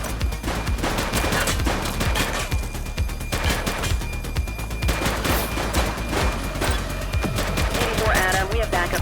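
Gunfire rings out in the police game The Precinct: a dense, continuous fusillade of rapid shots and bursts fills the whole stretch, loud and close, with no talk over it.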